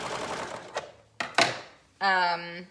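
A sewing machine stitches the side seam of woven pajama shorts, giving a few short clicks and whirs before one steady, close run of rapid stitching at the end.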